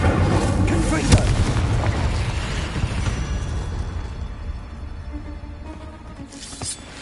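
An explosion spell in the video game Hogwarts Legacy: a heavy booming blast right at the start that rumbles and fades over several seconds, with a smaller crackling burst near the end.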